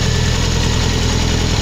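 A modified Toyota MR2 Turbo engine idles steadily and loudly up close, a smooth continuous rumble with a low, even pulse throughout.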